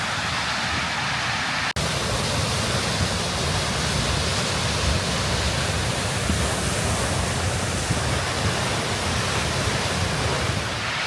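Kirkjufellsfoss waterfall in Iceland in November: a dense, steady roar of falling water, loud and unbroken throughout, with a single sharp click near the start.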